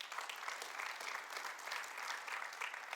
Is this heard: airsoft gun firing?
no